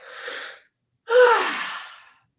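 A soft breath is followed by a short silence, then a sharp, forceful exhale that tails off gradually, close to the listener.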